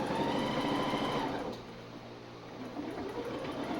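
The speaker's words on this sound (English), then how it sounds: "So anyway, I'm almost done sewing this." A sewing machine stitches leather in a steady whirring run that eases off midway, then picks back up more quietly, close by.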